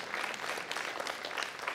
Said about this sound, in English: Yeah, somebody wants to cheer.